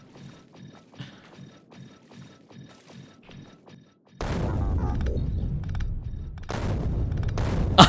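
Explosions in the video game Factorio, randomizer mode, come as loud bursts of crackling blasts after a stretch of soft ticking game sounds, with a second cluster of bangs near the end.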